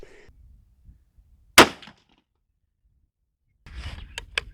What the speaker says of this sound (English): you can actually see the gun move about an inch down before it actually goes off